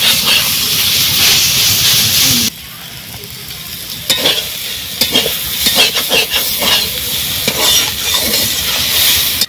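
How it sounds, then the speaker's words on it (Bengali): Leafy greens frying loudly in a pan: a dense hiss and sizzle that drops off sharply, then carries on beneath repeated scraping and clattering stirs, near and without voices. "ও মা বললো একটু শাকটা ভাজা"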